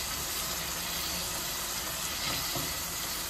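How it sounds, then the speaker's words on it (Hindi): Mutton frying with spices in a pot gives a loud, continuous sizzle with hissing steam and occasional stirring scrapes, and no one speaks over it. "गोश्त को मैं मसालों के साथ 1 से 2 मिनट अच्छी तरीके से भून लूँगी"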